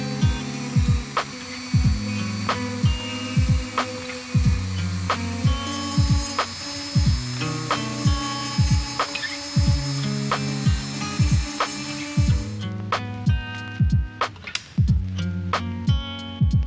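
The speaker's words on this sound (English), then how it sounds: "but a Dremel makes short work of it" Dremel rotary tool grinding off plastic tabs on a BMW air-vent switch, close and loud, with repeated short bursts of high whine at a steady rhythm and a sharper, brighter tone near the end.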